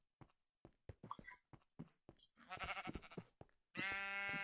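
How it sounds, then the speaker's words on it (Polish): A sheep bleats loudly in the Minecraft video game, one sustained bleat closing out the clip after someone talks quietly in Polish. "Owca, przyda się na łóżko."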